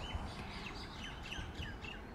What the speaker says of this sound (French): je pense que vous entendez derrière moi les petits oiseaux qui chantent, c'est absolument magique